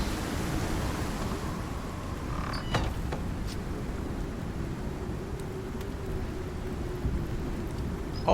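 Steady rain pours in the survival video game Icarus, a dense even hiss that lasts throughout, with only a faint brief rumble partway through and no voices.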